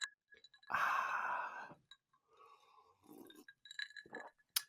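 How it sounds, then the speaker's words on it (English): Ice cubes clink against a glass of gin and tonic, a bright burst followed by scattered soft clinks and faint breathy sounds, quiet and close in a calm room. "get some good ice cubes"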